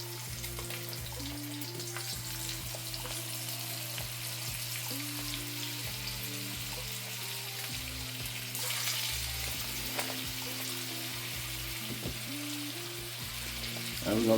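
Lemon breaded chicken sizzles steadily in a pan of oil and butter, a continuous close frying hiss with a few faint clinks and a brief louder burst near the end.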